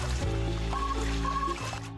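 Water is poured into a rubber toy dinosaur that stretches like a balloon as it fills, making a close, continuous pouring and trickling sound that shifts in pitch partway through.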